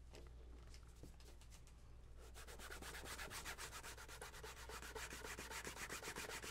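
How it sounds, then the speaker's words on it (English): Damp leather for a wine tote is burnished by hand: quiet rubbing at first, then from about two seconds a fast, steady run of close, even friction strokes with no talking. "I'm going to go ahead and burnish this while it's still a little damp"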